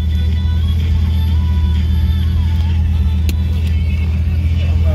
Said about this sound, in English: move the car forward just a little bit